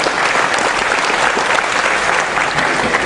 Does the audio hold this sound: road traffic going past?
no